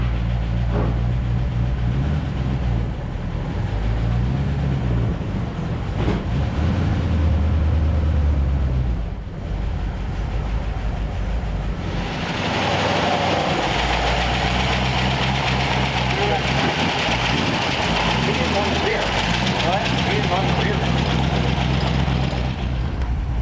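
A 1932 Ford Roadster engine with a Stromberg carburetor idling close by, a steady low rumble that grows noticeably louder and rougher about halfway through, with brief talking over it.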